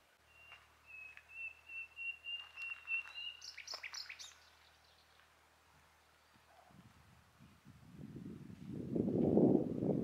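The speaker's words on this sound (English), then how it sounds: "Birds." Birds chirp and whistle outdoors in a garden yard, a run of bright repeated calls early on, then softer calls fading under rising rustling and handling noise.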